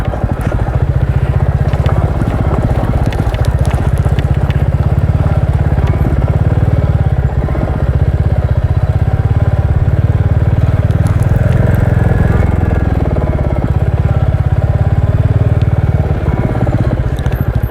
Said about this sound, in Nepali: एउटा बाइक चाहिँ हिँडेकै छ यहाँ।